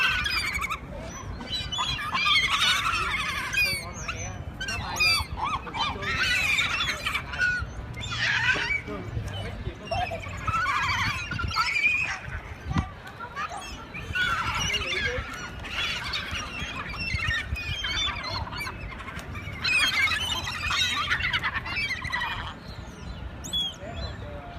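Seagulls in San Francisco call and squawk repeatedly in a loud, busy chorus of overlapping cries, close by, under steady outdoor background noise with some voices.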